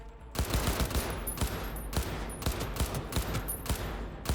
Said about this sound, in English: Oh, now I really am getting shot.